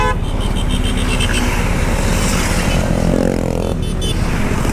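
Cars in a road race roar past at full throttle on roads near the Giant's Causeway. A loud, steady engine drone fills the whole span, close and unbroken, with no speech.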